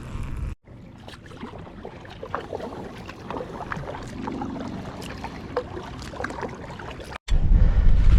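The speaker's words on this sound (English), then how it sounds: "it's going to be a far paddle" A kayak paddled across a windy lake, with steady water swishes and paddle strokes close by under wind noise, no talk.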